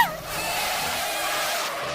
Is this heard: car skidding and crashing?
yes